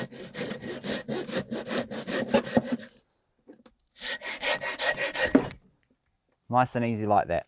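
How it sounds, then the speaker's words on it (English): A butcher's handsaw cuts through pork bone in rhythmic back-and-forth strokes, two close, loud bursts of rasping separated by a pause, then someone speaks briefly. "So I'm using a butcher's handsaw, and all I want to do is just cut through that bone"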